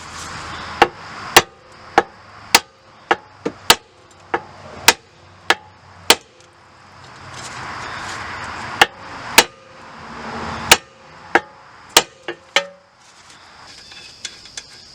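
Repeated loud metallic hammer strikes on the front suspension of a 2003-2007 Honda Accord, freeing the upper ball joint; sharp clanging blows in irregular bursts with short pauses between them.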